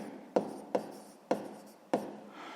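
Pen scratching on paper during a sixth-grade maths exercise, four short strokes at an even pace, close and fairly quiet with no voice.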